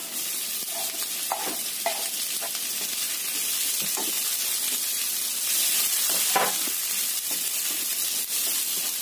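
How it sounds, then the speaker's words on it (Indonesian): Red and green chilies sauté with garlic and ginger in a hot pan, giving a loud, steady, close sizzle with a few faint stirring clicks and no talking. "Tumis sampai cabainya layu"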